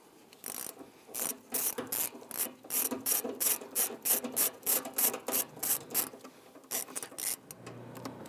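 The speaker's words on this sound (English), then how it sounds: "Now we're going to use an 8mm socket extension and our hand ratchet. Loosen and remove all of the nuts around the perimeter." A hand ratchet with an 8mm socket on an extension loosens the nuts around a 2013 Kia Soul fuel pump module, giving rapid bursts of close, crisp clicking pawl strokes that repeat steadily, with no voices.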